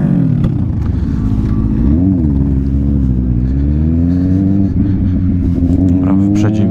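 A petrol car engine revs and rises in pitch as it accelerates past, over the steady drone of a nearby motorcycle engine.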